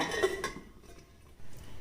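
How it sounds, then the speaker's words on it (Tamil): A metal lid clanks onto a cooking pot with a couple of quick clinks, followed by quiet kitchen background. "இப்போ நம்ம மறுபடியும் மூடி போட்டுக்கலாங்க"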